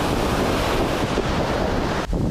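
Rough ocean surf at a beach in Sabang, Puerto Galera, Oriental Mindoro, a loud continuous wash of breaking waves with wind buffeting the microphone.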